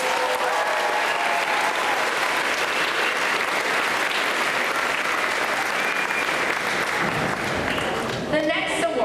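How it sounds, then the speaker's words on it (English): A school award ceremony audience gives a loud, dense round of sustained applause for student honorees. The clapping fills the room steadily before tapering off near the end. "Let's give them another big round of applause."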